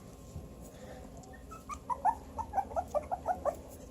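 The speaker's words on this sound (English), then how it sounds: "Look at the puppies." Puppies whimpering and yipping in a quick run of high, thin cries near the end, close by and fairly soft over a quiet background.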